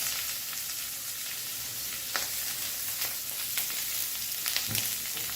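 Two large onions fry in a pan over medium-low heat, giving a steady, fairly quiet sizzle with a few soft scrapes and clicks of stirring, and no voices.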